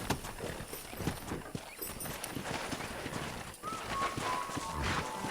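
A herd of wild horses in the Red Dead Redemption video game pounds past in a dense, continuous galloping clatter, with a brief whinny rising above the hoofbeats.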